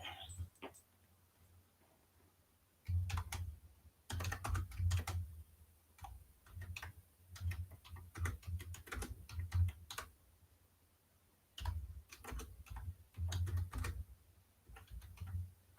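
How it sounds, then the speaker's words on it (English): Someone types on a computer keyboard in a quiet room, with bursts of rapid clicking keystrokes separated by short pauses, close and moderately soft, with no talking. "And I'll type it in the private chat."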